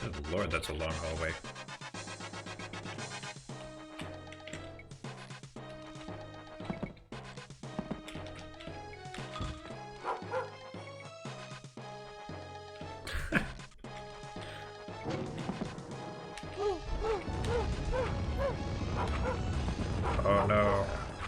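Dogs in the Rise of the Triad video game bark and yelp in repeated bursts amid a busy, loud mix of game music and effects, with some whimpering.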